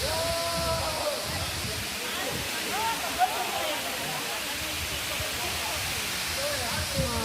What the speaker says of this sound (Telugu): వాటర్ ఫాల్స్ దగ్గరికి వచ్చేసినాం అనుకుంటా ఎందుకంటే వాటర్ సౌండ్ అండ్ ఎయిర్ ఇంతలు అవన్నీ వినిపిస్తున్నాయి